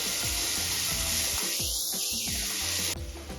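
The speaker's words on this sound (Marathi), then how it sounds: "आता हे सर्व एक मिनिट परतून घ्यायचं आहे आपल्याला म्हणजे गाजर आणि शिमला थोडीशी सॉफ्ट होईल" Chopped capsicum and carrot sauté in a pan with a continuous, bright sizzle and hiss, stirred now and then, loud and close throughout, ending with a slight change in tone at the end.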